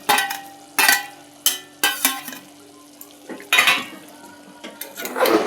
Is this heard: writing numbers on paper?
no